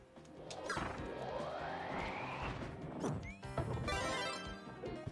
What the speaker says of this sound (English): So he's going to start smashing with his mallet.